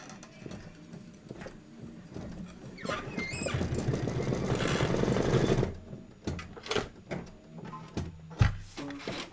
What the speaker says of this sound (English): Two minutes of stitching.